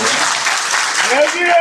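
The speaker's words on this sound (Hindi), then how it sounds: "एक बार ताली बजा के माननीय मोदी योगी" Crowd clapping at a flood relief visit by a state water resources minister in India, a dense burst of applause from many hands with voices mixed in, loud and continuous.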